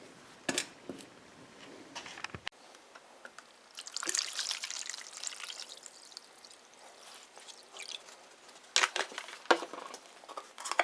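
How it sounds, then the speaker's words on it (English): A vinegar and table salt solution being poured and splashing into a container, with intermittent bursts of trickling and dripping, some louder pours near the start and end, and quieter gaps between. "make a solution with the vinegar and some table salt"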